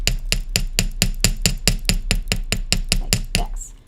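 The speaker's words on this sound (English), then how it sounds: "And then you can hammer it in strategic areas" A metal hammer taps rapidly and evenly on memory wire atop a metal bench block, about twenty crisp, ringing strikes in a steady rhythm, close by.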